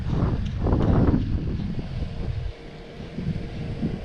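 Wind blows at a riverbank during a fly fishing outing, a steady low rush with gusty buffeting against the microphone, stronger in the first half and then easing to a softer, constant roar.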